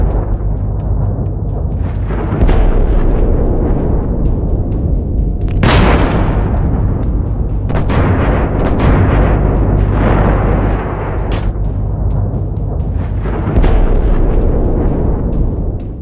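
Rapid gunfire from a Bradley fighting vehicle in combat, heavy booming bursts and sharp cracks over a dense, rumbling background, with several loud reports clustered in the middle.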